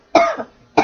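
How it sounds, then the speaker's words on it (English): Two short, sharp human coughs close to the microphone, the first with a brief trailing rasp, separated by about half a second of quiet. "That made me cough."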